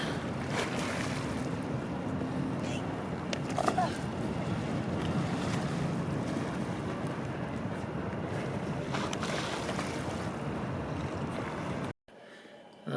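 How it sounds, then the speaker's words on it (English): Steady wash of water and waves on the Mississippi River near New Orleans with a boat passing, under constant wind buffeting the microphone for about twelve seconds before the sound cuts away. "So this is the Mississippi River"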